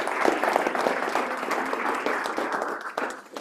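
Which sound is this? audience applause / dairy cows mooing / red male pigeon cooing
audience applause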